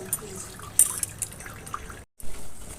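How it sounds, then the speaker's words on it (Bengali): Scrubbed field snails rinsed with water, soft splashes and drips with a brief trickle, faint and intermittent, pausing briefly before a last slosh. "ঘষে তারপর জল দিয়ে ধুয়ে পরিষ্কার করে নিতে হবে।"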